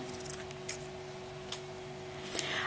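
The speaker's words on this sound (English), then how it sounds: "So I'm just going to go ahead and trim that off" Scissors trimming lace for handmade fabric flowers make a few quiet, separate snips over a faint, steady hum.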